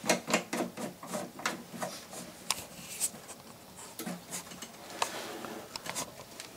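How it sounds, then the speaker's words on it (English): The lid of an F501 low smoke machine is screwed down tight by hand, giving close, irregular scraping, rubbing and ticking sounds in short uneven bursts. "simply screw the machine lid down nice and tight"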